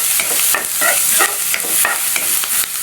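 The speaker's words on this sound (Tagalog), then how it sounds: "at lalagyan na natin itong sibuyas natin" Chopped onions hit a hot pan with toasted garlic for ginisang ampalaya, a loud continuous sizzle broken by repeated scraping stirs at a quick, even rhythm, close up and with no talking.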